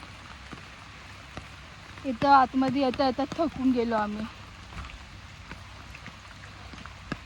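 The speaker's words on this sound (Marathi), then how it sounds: "आणि पाऊस पण स्टार्ट झाला बापा" Steady rain falls during paddy rice transplanting. A soft wash runs the whole way through, and someone talks clearly over it in the middle.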